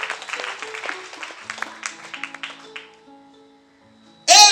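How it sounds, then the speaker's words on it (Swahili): A church congregation claps for Jesus during a Swahili sermon, a dense patter of hands that thins out and fades, then a sudden loud burst closes the moment. "Pigie Yesu makofi mazuri"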